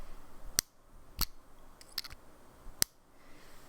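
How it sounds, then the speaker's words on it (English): A Pilot Prera fountain pen cap snapping shut, four crisp separate clicks spaced roughly evenly, loud and very close to the microphone over faint background hiss. "the best click ever in a pen as far as I am personally concerned"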